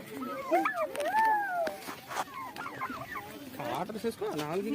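Several chickens cluck and squawk close by in a busy, overlapping stream, with a person's voice mixed in.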